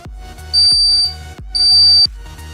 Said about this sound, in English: If a person or a blind people hit the door or the wall, it gives a beep sound.